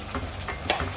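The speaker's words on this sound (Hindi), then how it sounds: "चिकन जो है इसको मैं फ्राई करूँगी" Chicken frying in a pan with tomatoes in a home summer vegetable dish, giving a steady, moderately loud sizzle with a brief stirring scrape near the end, no voices.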